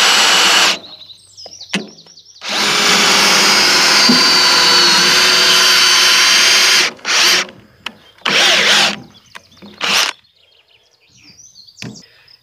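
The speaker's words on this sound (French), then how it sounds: "le premier bois il faut le percer" A power drill bores through wood for a pergola in loud whining bursts. One long run is followed by several short ones, with quiet gaps and faint knocks between them.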